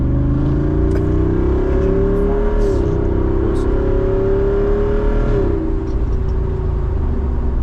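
A Jeep Wrangler's 6.4-liter HEMI V8 revs up and settles in two rising-and-falling surges, a loud, deep, steady engine drone held close throughout, with no voices.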